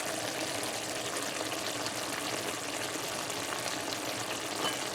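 Seim and eddo curry simmers in a pot, giving a steady, close bubbling and sizzling hiss that stays even throughout with no voices.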